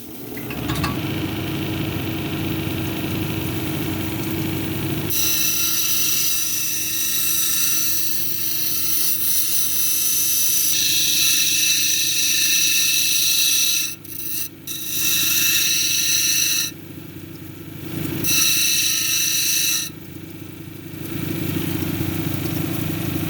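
A lapidary grinding wheel shapes a green tree agate cabochon, its loud steady motor whine joined by harsh rasping grinding as the stone is pressed on, with brief lifts where the contact drops away before the grinding resumes.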